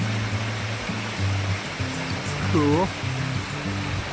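A steady wash of water from Mountaineer Falls, a modest mountain waterfall with less flow than usual, runs underneath continuous nearby talking.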